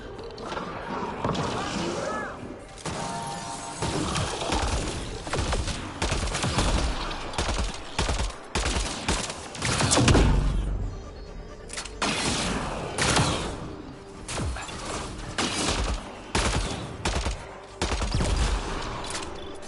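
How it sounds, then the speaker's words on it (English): Repeated bursts of gunfire in the sci-fi shooter Mass Effect Andromeda, loud and close, crackling in ragged volleys throughout with short pauses and a heavy blast near the middle, while someone talks now and then. "Yeah, they still out here shooting"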